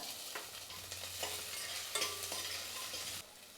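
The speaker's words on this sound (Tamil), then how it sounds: "இப்போ பூண்டு மிளகாய் எல்லாமே நல்லா வதங்கிடுச்சு" Crushed garlic and dried red chilies fry in oil for rasam, giving a soft, close sizzle with faint scraping stirs over a few seconds, and no voices.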